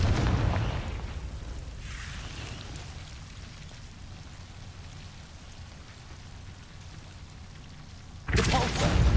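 Confringo fire-blast spell in Hogwarts Legacy bursts loudly at the start, then a hissing, rumbling rush continues before a second sharp blast near the end.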